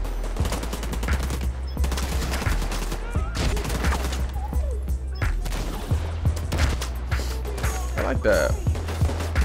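Bursts of gunfire from The Division 2 video game crack out in rapid volleys and single shots over heavy low rumble, with a player talking briefly between shots.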